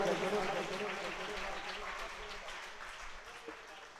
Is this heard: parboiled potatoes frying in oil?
no